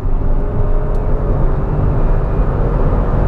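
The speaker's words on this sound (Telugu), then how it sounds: "గేర్ జస్ట్ డౌన్ చేసేసి పవర్ ఇచ్చేస్తే ఆటోమేటిక్గా పవర్ పికప్" Hyundai i20 N Line engine pulling hard after a downshift, heard from inside the moving car as a loud, steady low roar mixed with road and wind rumble, no voices.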